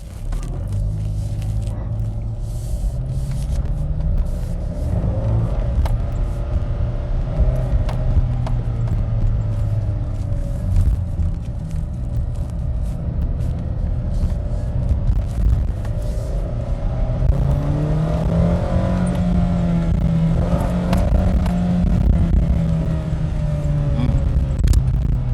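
A 2006 Nissan Frontier XE King Cab pickup engine revs in its lowest gear as a steady, close, low rumble with slow rises and falls in pitch, continuing throughout.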